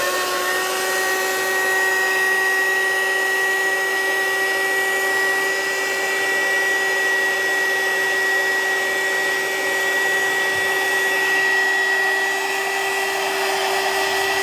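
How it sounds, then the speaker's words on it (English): A hot air heat gun blows steadily and loudly while drying watercolor paint, giving a continuous high-pitched whine with an airy roar that barely changes over the whole stretch and has no talking. "This is a hot air gun or a heat gun"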